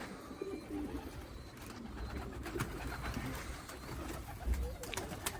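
Pigeons coo in a loft, their soft low calls repeating against a dense, constant background of rustling and bird chatter.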